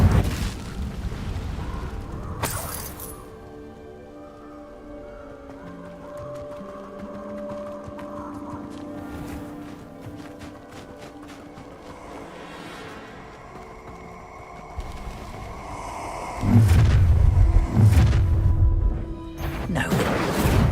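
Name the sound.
Incendio fire spell in Hogwarts Legacy video game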